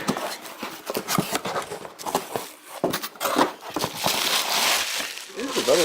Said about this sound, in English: Ooh, bubble wrap.